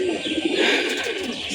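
Several pigeons coo nearby, their low rolling calls overlapping continuously without pause.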